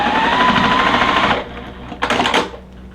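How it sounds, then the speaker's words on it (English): A sewing machine stitches corner pieces onto a quilt block, a steady motorized run for over a second, then a pause and a short second burst of stitching, close and loud. "Now let's sew our corners on."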